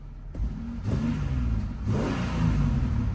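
A repossessed custom race truck idles while warming up, its engine running smooth and steady with a couple of light revs swelling the rumble, close by and with no talk over it.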